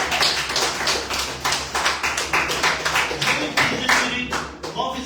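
A church congregation claps in rhythm to acclaim the Holy Spirit, steady repeated hand claps filling the space at a lively, even pace.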